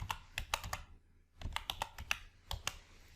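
Quick bursts of typing on a computer keyboard while entering a function name into a spreadsheet search box, with crisp, close key clicks grouped into two short runs around a brief pause.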